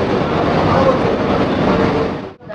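An AC local train pulls into Chakdaha station, a steady, loud rolling rumble that drops away abruptly just before the end.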